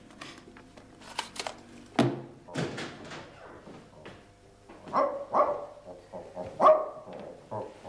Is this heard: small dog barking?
yes